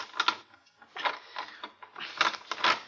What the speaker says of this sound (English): if I can twist this bolt